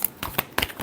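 Tarot cards being shuffled in several quick, close riffling bursts, crisp and fairly quiet, with no talking.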